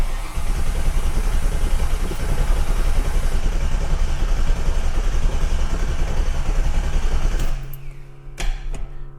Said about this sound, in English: you're going to hear our awesome big giant fuel pump, which is working perfectly